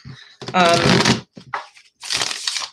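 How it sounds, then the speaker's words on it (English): A basic cardstock tarot deck being shuffled, with bursts of riffling card noise in loud stretches separated by brief pauses, under and between a person talking. "it shuffles well because of the stock"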